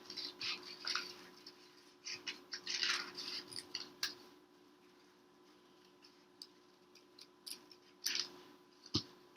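Scissors snipping through folded paper for a Polish wycinanki paper cutout, quick close clicks and crisp cuts in irregular bursts, with quiet pauses between.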